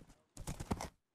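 Horse hooves in the game Minecraft clatter in a quick, close run of about four clip-clop beats, then cut to silence.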